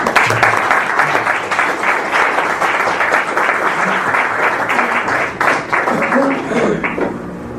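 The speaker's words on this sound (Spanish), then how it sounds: "Un aplauso" An evening audience applauds as the featured speaker is invited to the stage, with loud, dense crowd clapping sustained for over seven seconds and a faint voice surfacing near the end.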